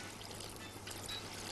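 Hot water poured in an Egyptian restaurant kitchen while cooking: a faint, continuous pouring splash and trickle, heard alone for a moment with no talk.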